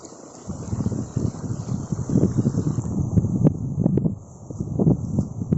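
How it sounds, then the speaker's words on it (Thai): Wind blows across rice terraces and rustles the rice leaves in soft, uneven gusts and swishes, fairly close, with brief louder rustles rising and falling. "แล้วก็จะได้ยินเสียงลมที่พัดนะฮะ"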